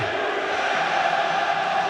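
A football stadium crowd at Bristol City vs West Brom roars steadily, a broad, continuous wash of massed voices holding at an even level throughout.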